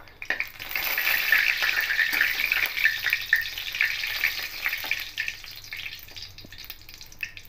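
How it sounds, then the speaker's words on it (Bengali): Black cumin seeds crackle and sizzle in hot oil, a close, steady frying hiss with small pops and a few clinks of stirring that fades slightly near the end, with no voices. "একটু কালো জিরেটা ফুটে এসছে, ভাজা ভাজা হয়ে এসছে।"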